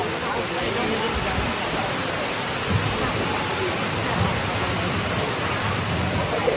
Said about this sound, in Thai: กระแสฝนกระแสลมมาก